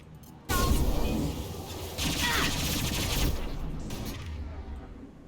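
Bursts of sci-fi weapon gunfire rattle through a Mass Effect firefight, starting abruptly after a brief lull and continuing as dense, loud volleys with a second surge midway before easing slightly.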